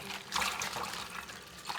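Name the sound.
spinach being swished and washed in a bowl of water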